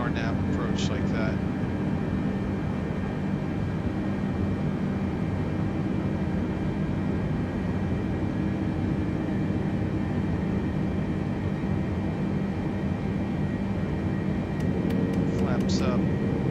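Boeing 747-8 airliner in Microsoft Flight Simulator, flying an RNAV approach to runway 27 at San Diego, holds a continuous low engine and airflow drone, with short clicks and tones near the start and end and someone speaking over it.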